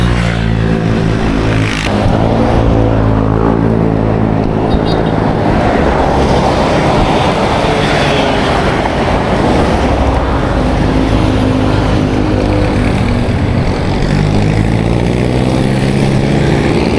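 A jeepney climbs uphill, its engine loud and close with a continuous labouring roar and shifting revs that never let up, no voices present.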